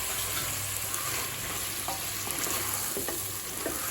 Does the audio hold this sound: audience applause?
no